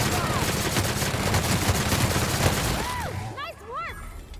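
Rapid bursts of gunfire in The Outer Worlds, a dense run of shots up close and loud, fading as a speaking voice rises near the end.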